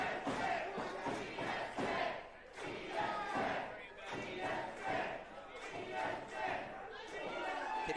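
Crowd at an 880 Wrestling Thursday Night Fights show in Pittsburgh yelling and cheering, a dense, steady roar with rising shouts and a few thuds, loud and close throughout.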